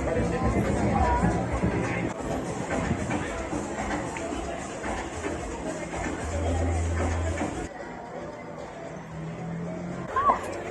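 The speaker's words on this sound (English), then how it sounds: "The crowds in front of the Tutu house." A crowd gathers in front of Desmond Tutu's house in a large Black neighborhood of South Africa, a continuous outdoor babble of many voices with shuffling and distant traffic, with a nearby voice talking over it.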